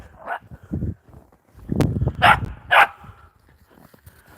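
Playful puppies barking outdoors, a short burst of several yips and barks with whimpering tones, close and loud.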